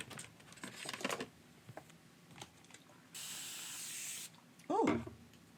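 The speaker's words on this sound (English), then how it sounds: "And I'll just spray this." A shimmer spray bottle hisses in one steady burst of about a second onto a card, close by, among crafting clicks and rustles, with a voice speaking briefly just after.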